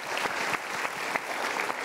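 Studio audience applause in a Mario Teguh motivational talk show, steady dense clapping throughout with no voices over it.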